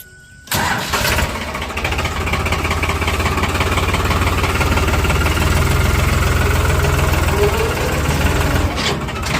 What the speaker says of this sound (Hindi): फाइनली हार्वेस्टर खेत तक पहुंच के